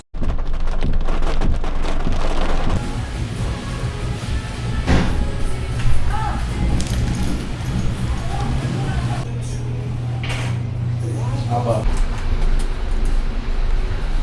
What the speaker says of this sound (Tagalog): So, umuulan na